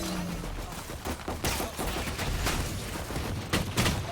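Gunfire in a video game rings out as dense, rapid volleys of shots with sharp bursts near 1.5, 2.5 and 3.5 seconds over a steady game soundscape, close and loud throughout, with no talk.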